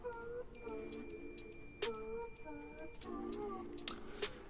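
A multimeter's continuity buzzer sounds a steady high electronic tone for about two and a half seconds while its probes touch, with soft background talk and light clicks around it.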